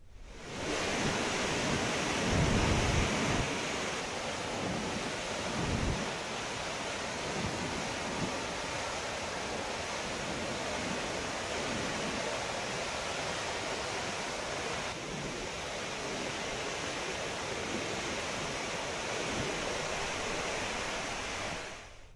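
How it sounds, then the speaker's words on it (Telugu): Floodwater from the swollen Manjira river pours over a high-level bridge at Kurthi village in Telangana after heavy rains. It makes a steady, loud, broadband roar of rushing water that lasts throughout, with no voices. "మంజీరా నదిలో భారీగా వరద ప్రవాహం పెరగడంతో కుర్తి గ్రామం వద్ద హైలెవెల్ వంతెన పైనుండి వరద నీరు ప్రవహిస్తోంది"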